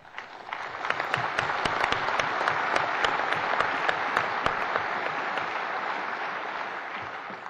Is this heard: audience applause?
yes